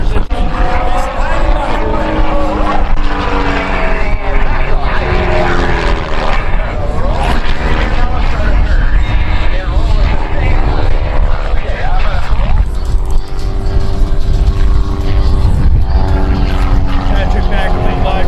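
A highly modified Vic Special aerobatic airplane, the Blue Demon, performs at the Westmoreland County Airshow, its propeller engine droning loud and steady throughout, with a voice talking over it.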